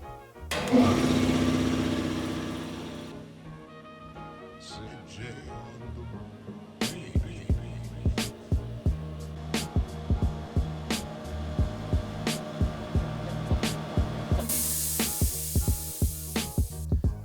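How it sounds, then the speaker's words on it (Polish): A Jager German 100-litre 3 kW 230 V air compressor starts with a loud burst, then runs with a rapid, steady pumping knock as it fills its tank, close and alone. "kompresor do tych 8 barów 100 litrów nabił dosyć szybko"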